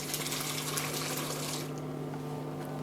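Hot water pours steadily into a pot of grape leaves being blanched, a continuous close splashing rush that thins out partway through while a low steady hum stays underneath.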